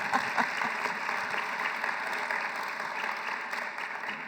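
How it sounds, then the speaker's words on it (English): An audience at a design industry conference talk applauds with sustained, dense clapping. The applause holds steady and full for several seconds with no pause. "That feels like a round of applause."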